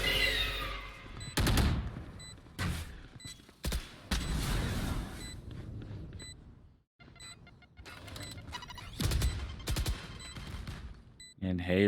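Gunfire in a Valorant esports match: bursts and sustained automatic fire in clustered volleys, with quieter gaps between, loud and close under caster commentary.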